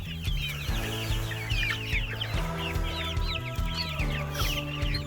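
Cheonggye chickens in a flock of about sixty cluck steadily and close by, with overlapping calls and soft chatter over low background hum.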